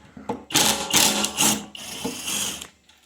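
A ratchet working 8mm bolts loose on top of a Champion generator, with rapid clicking bursts in a few runs, close and fairly loud, no talking.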